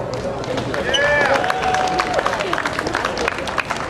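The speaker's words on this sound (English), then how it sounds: "Please give him a round of applause." Applause and cheering from a crowd at a justice rally welcoming a hip hop commentator to the stage, dense clapping with whistles and shouts sustained throughout, voices mixed into the noise.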